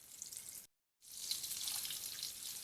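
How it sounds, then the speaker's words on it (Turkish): Onions sizzle steadily as they sauté in a teaspoon of melted butter for Turkish oğmaç soup, a close, even frying hiss broken by one brief pause of silence. "Eriyince de soğanlarımızı ilave edip güzelce kavuruyoruz"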